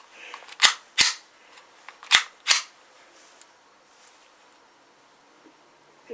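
Four sharp pistol shots crack close by in an uneven rhythm, two pairs about a second apart, with faint small clicks and handling noises in the quiet afterward.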